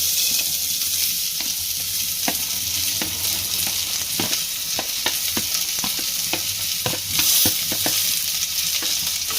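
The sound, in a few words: sautéing chopped onions for squid curry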